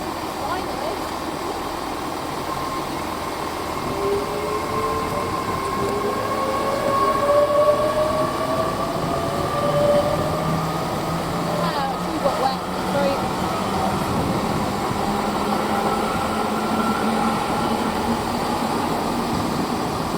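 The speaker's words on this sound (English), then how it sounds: "And now departing is 800-318 to London Paddington." A Class 800 passenger train departs Didcot Parkway with a rising electric whine and rumbling wheels, sustained and fairly close, as it gradually gathers speed.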